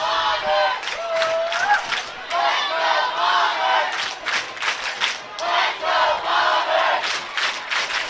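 A high school football crowd at a Mountain Home Bombers versus Harrison Goblins game chants and yells in rhythmic surges, loud and close, with pulsing bursts of voices.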